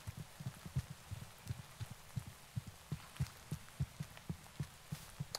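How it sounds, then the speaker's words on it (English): Steady rain falling in the Minecraft video game, a soft broadband hiss with regular low dull patters running throughout, quiet and without speech. "'Cause it's raining, that's why."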